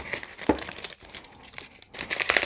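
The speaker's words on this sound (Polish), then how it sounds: "Zobaczcie, ktoś to pięknie spakował w taki papier prezentowy." A package holding a Sega Master System game is unwrapped from gift paper: loud, close crinkling and tearing in irregular bursts, with no speech.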